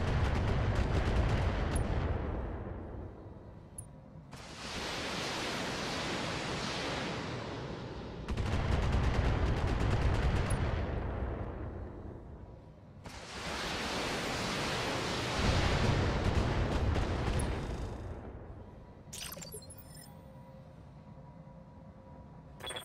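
Mech weapons firing in a BattleTech battle, heavy loud bursts of blasts and roaring impacts in several long waves, each lasting a few seconds with brief lulls between, ending with a sharper crackling burst.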